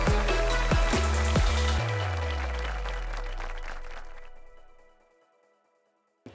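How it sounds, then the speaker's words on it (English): An audience at the FOAID 2024 design event applauds architect Ernesto Bedmar as he comes on stage. The loud, dense clapping opens with a few musical chords, holds steady, then fades away over several seconds. "Let's have the loudest round of applause."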